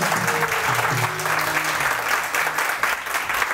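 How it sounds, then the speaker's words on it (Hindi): Studio audience applauding a guest on a morning television show, a continuous burst of clapping from a small crowd, fairly loud and close, with faint voices underneath. "उनके लिए जोरदार तालियां थी"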